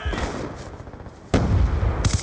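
A frag grenade goes off in Call of Duty: Black Ops 2 during a hardcore team deathmatch on the Plaza map, a loud sudden blast after a quieter stretch of game noise, with a second sharp burst close behind it.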